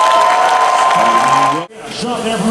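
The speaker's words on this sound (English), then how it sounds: "We're gonna go ahead and give a warm round of applause for Team" An indoor crowd at a robotics competition event cheers and applauds for FRC Team 971 Spartan Robotics, a loud sustained roar with an announcer's voice talking over it, briefly cutting out before the crowd noise resumes.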